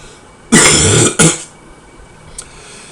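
A lecturer coughs twice in quick succession during an indoor class on body composition, two loud harsh bursts close to the microphone, followed by quiet room tone and a faint click.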